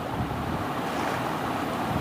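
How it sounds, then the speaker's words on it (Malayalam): Water in the Minecraft video game, a soft steady rushing wash like surf, quiet and continuous with no talk. "അയ്യോ, വെള്ളത്തിൽ പോയി"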